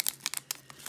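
Pokemon card pack wrappers crinkle and tear close by in a brief burst of several quick, crisp rustles.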